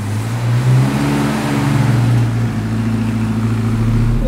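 A car pulls away on a journey in Mae Hong Son, its engine a steady low drone that rises slightly in pitch as it gets moving, heard close from inside with no talking.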